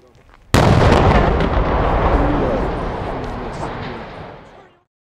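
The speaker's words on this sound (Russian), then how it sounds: "В результате первого взрыва рухнуло левое крыло здания." A demolition blast brings down the left wing of a building: a sudden loud boom, then a long rumbling roar of collapse that fades out over several seconds.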